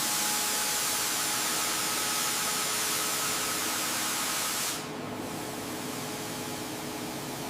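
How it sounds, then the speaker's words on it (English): A spray gun lays a base coat of paint on a giant mining truck, a loud, close, steady hiss running unbroken for several seconds before dropping slightly in level near the end. "Let's make this base coat perfect."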